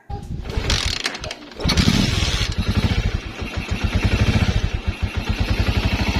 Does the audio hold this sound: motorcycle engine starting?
yes